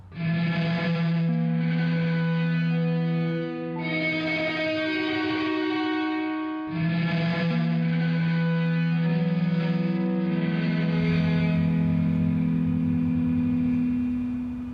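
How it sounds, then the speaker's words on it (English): Heavily distorted electric guitar run through a reverse reverb, sustained fuzzy chords swelling in and cutting off in waves, giving a visceral breathing rise before each new chord, loud and alone. "So it's still incredibly distorted, but you get this really visceral kind of breathing sound from that reverse reverb"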